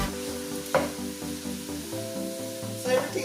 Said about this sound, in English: So I'm gonna stir everything together.